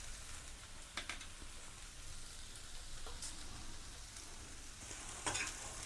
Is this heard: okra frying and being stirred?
yes